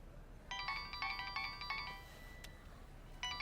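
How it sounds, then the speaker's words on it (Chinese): A melodic electronic phone ringtone plays in repeated bursts of bright tones, stopping for a moment and then starting again, clear and close with no talk. "我接个电话。"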